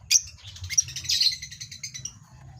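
Lovebirds chirping nearby, a busy run of bright, rapid tweets and squawks with no pauses.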